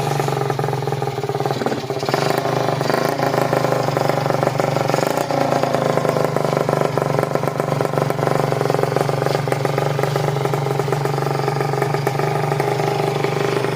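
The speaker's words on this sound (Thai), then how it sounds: "เสียงคีอาร์" A Kawasaki KR150 motorcycle engine runs steadily and loud, with a buzzing mid-pitched drone and slight rises in revs throughout.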